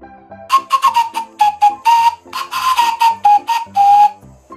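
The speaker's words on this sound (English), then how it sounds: "And there we have it, our finished carrot recorder" A homemade recorder carved from a carrot plays a series of short, breathy whistled notes in a bouncing tune, close and fairly loud, with brief gaps between notes.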